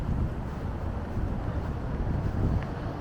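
Strong wind blows on a Toronto city street at night in Broadview Chinatown. A steady, low buffeting rumble of gusts hits the microphone throughout, with no voices.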